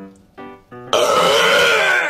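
One person lets out a long, loud, rumbling burp after a couple of short throaty sounds, close and forceful, holding steady to the end.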